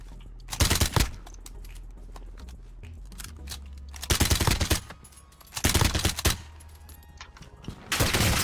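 Loud bursts of automatic gunfire ring out in the Warzone video game, several separate rapid volleys spaced a few seconds apart over a low background hum.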